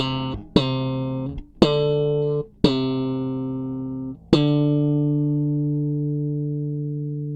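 Bass guitar with both pickups and flat EQ, several sustained notes each plucked with a sharp attack, the compressor clamping down so each note rings on at an even, steady level with bright harmonics.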